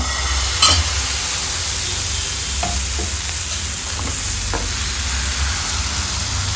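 Egg paratha batter cooks on a hot oiled pan over medium heat, giving a loud, steady sizzle throughout, with a few soft scraping and tapping touches from a ladle spreading it.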